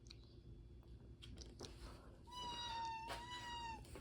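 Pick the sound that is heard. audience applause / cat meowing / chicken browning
cat meowing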